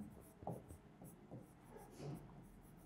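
A pen scratches across paper in short, quiet strokes and taps, soft and close in a calm room.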